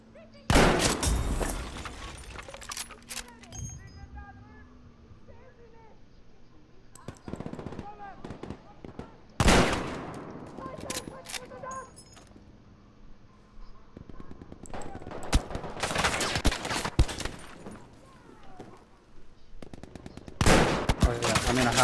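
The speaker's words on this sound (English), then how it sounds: "I got a view of the machine gun up there" A machine gun nest firing in a video game, with repeated loud bursts of automatic gunfire separated by quieter gaps and some speech between volleys.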